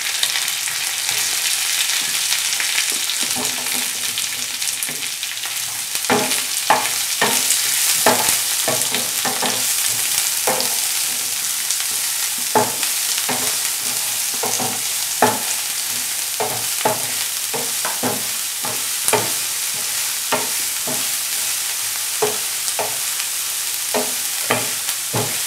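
Chopped onion and green chilli fry in a pan with a constant loud hiss, broken by frequent sharp scrapes and taps of a spatula stirring through the mix.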